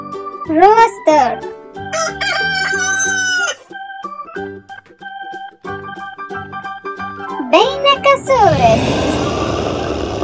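A toy-show rooster crow rings out in a few long rising and falling calls, loud and close, with a brief harsh burst of noise near the end.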